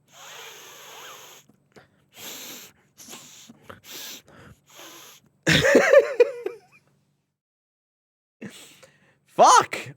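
Sharp nasal sniffs and snorty breaths drawn through one nostril while the other is blocked, in short bursts with quiet gaps between them and two stronger, louder pulls of air near the end.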